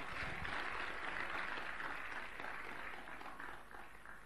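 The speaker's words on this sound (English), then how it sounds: "So a round of applause for Franklin Ezekume." An audience applauds Franklin Ezekume at a coworking conference. The clapping is a dense, steady wash that fades slightly toward the end, with no talk over it.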